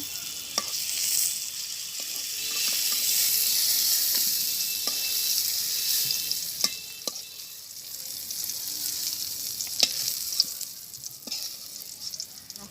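Pointed gourd (potol) frying in oil in a pan gives a steady, bright sizzle throughout, with occasional sharp spatters and a few stirring clicks, close and fairly loud, with no voices.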